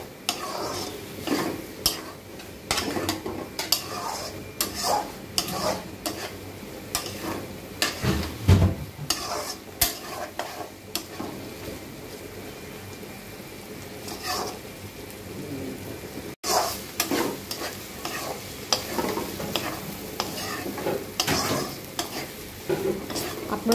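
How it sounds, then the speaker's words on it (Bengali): Chickpeas fry with chopped onion and green chili in a pan, stirred steadily, with continuous scraping and rattling over a constant sizzle, close and fairly loud with no talking. "নেড়ে চেড়ে একদম ভাজা ভাজা করে নেব।"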